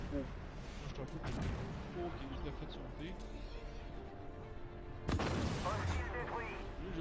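A tank blown up in a first-person armored combat game, heavy explosive booms over constant engine rumble and game noise, with a louder blast near the end.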